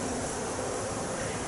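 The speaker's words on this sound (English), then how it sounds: "me dropping in the frames has disturbed the bees a bit" Honeybees buzzing steadily around an open hive after frames are dropped in, a dense, continuous near drone with no voices.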